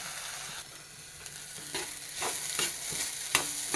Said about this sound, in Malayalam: നന്നായിട്ടൊന്ന് വറുത്തെടുക്കണം